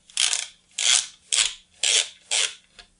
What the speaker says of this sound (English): All you have to do is pop the bezel off